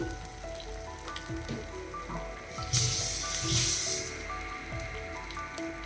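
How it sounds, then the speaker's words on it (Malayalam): Ground masala paste for chicken curry sizzling in oil over a medium flame, a soft continuous crackle with a louder burst of hissing midway, occasional low knocks of handling underneath, close and without speech. "അപ്പോൾ മീഡിയം ഫ്ലെയിമിൽ വെച്ചിട്ട് അതിൻ്റെ ഓയിലൊക്കെ തെളിഞ്ഞ് വരുന്നവരെ നമുക്കൊന്ന് വഴറ്റി കൊടുക്കാം."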